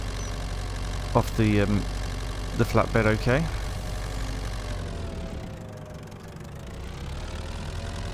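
Tractor engine idling in Farming Simulator 25, a steady low mechanical drone running throughout, with someone talking briefly over it early on.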